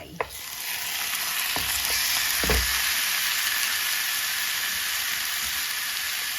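Pork ribs stir-fry in a hot pan for stewed pork noodles, giving a steady loud sizzle with a few scraping stirs and clanks near the start, no speech.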